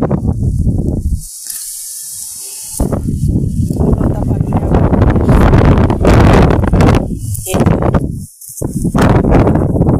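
Strong wind from a fierce dust storm gusts loudly against the microphone in heavy rushing bursts with brief lulls between them, under a dark sky with no rain.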